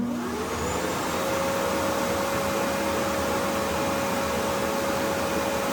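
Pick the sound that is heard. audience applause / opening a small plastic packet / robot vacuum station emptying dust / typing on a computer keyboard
robot vacuum station emptying dust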